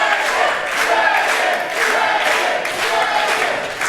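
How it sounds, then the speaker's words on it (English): A wrestling crowd at a live event cheers and roars loudly, a dense sustained wall of voices swelling in waves throughout. "Listen to this crowd."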